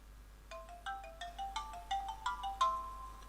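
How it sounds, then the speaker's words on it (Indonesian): A phone ringtone plays a quick series of bright electronic notes in a steady rising pattern, fairly faint and alone with no talk. "Sebentar, ada telepon."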